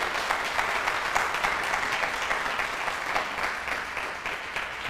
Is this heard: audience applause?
yes